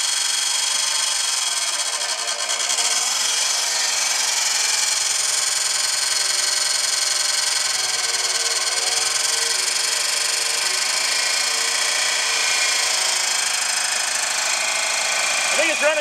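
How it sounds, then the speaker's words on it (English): A Dodge Daytona IROC with a newly fitted engine runs steadily, misfiring on three cylinders with a continuous rough drone and broadband hiss, while voices talk nearby. "I think it's running on 3 cylinders."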